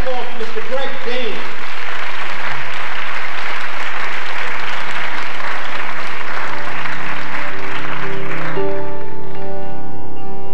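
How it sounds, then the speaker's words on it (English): An audience at a music hall arts festival benefit breaks into loud, sustained applause that fills the room, fading near the end as a voice begins speaking. "Please, a nice round of applause. Keep that going for Mr. Greg Dean."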